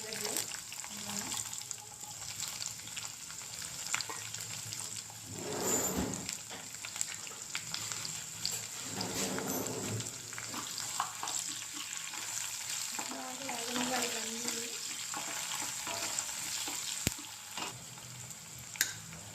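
Dried red chilies and cumin frying in tempering oil for a bitter gourd dish, a soft continuous sizzle with occasional stirring scrapes and clinks, moderately quiet, running steadily for a long stretch.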